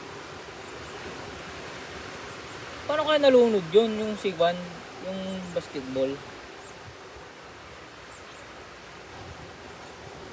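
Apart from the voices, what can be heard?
strong waves of the sea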